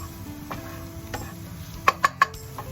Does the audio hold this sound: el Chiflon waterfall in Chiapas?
no